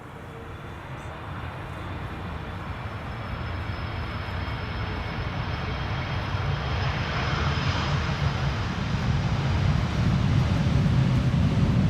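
An airliner lands in a crosswind at Amsterdam Schiphol, a loud broadband engine roar that builds steadily as the aircraft nears and passes close by, with no talk over it.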